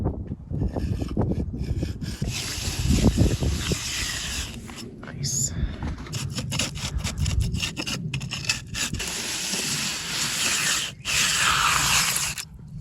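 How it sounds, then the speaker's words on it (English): Rubbing on an off-grid mountain homestead in Spain, a rough scraping stroke repeated in irregular bursts, fairly close and moderately loud, with quiet talking over parts of it. "Very satisfying rubbing."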